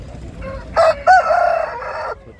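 A rooster crows nearby at a rooster market in Gudur, loud and clear, a single drawn-out call broken into several rising and falling segments.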